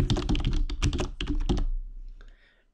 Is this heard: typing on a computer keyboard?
yes